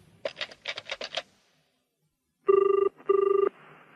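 A telephone rings twice, in two loud, clear electronic bursts. Brief clicking of buttons being pressed comes before the rings.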